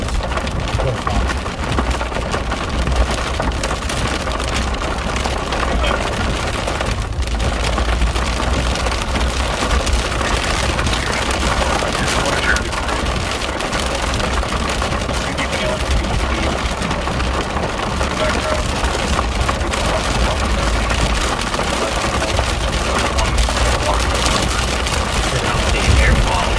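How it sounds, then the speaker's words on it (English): Heavy rain drums steadily on a patrol car, a loud, unbroken wash of noise that continues throughout. "we can't do anything to quiet down the rain. But it's loud for us too"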